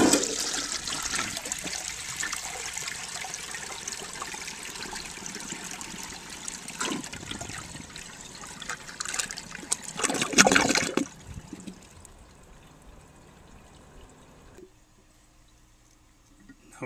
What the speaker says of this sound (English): Hopefully this will be the flush without the gush.